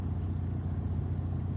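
Low engine rumble from a truck on a quiet night road near Pigeon Forge and Gatlinburg in the Smoky Mountains, a steady close drone without talk.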